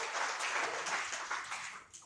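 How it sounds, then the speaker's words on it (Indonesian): Church congregation applauding during an evening worship service at GBI Marina Plaza in Manado, a steady wash of clapping at moderate distance, fading slightly near the end. "Tepuk tangan dulu buat Tuhan Yesus."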